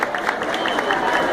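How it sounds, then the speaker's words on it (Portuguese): An award-show audience at the Troféu Gato de Prata 2014 claps to welcome a guest, with dense, steady applause filling the room and a voice speaking over it. "Vamos aplaudir a luz, olha."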